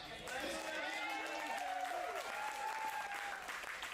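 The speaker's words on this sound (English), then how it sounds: "A huge round of applause to the Rock Solid crew." Applause and cheering from the crowd at a Rock Solid Warrior ninja competition qualifier final, a steady dense roar of clapping with voices and shouts mixed in, filling the whole stretch without a break.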